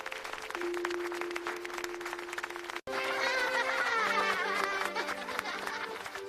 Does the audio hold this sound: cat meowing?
no